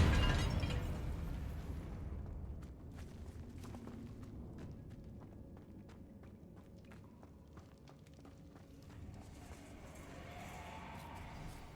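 A Confringo blasting spell erupts in Hogwarts Legacy as a loud, deep booming burst that fades into a rumbling tail, followed by scattered faint clicks and thuds.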